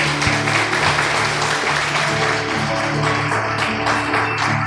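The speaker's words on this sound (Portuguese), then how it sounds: "Vamos aplaudir ao Senhor por essas oportunidades" A church congregation applauding during a worship service: dense, sustained clapping that fills the room for the whole stretch, with a steady tonal hum beneath it.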